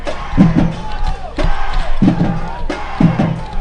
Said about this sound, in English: Not a big crowd for either team here tonight.